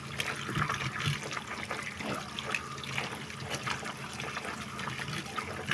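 Kamias fruit is washed under running water, a continuous close splashing and trickling with small clatters of the fruit in the hands, no voices.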